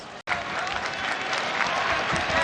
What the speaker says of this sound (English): The crowd loving it, the action.